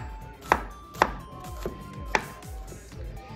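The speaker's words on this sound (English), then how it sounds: "So we need to slice into a small piece the upo so it's easy to cook." Bottle gourd (upo) being chopped into small pieces, with four distinct knife strikes at an uneven pace over a steady low background hum.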